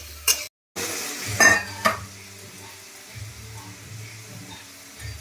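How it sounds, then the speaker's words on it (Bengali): Chopped onions with a green chilli fry in a pan on a home stove, a soft steady sizzle with a few sharp scrapes and clinks of a spatula being stirred early on, then quieter frying. "এবার পেঁয়াজটাকে ভালো করে ভেজে নিই।"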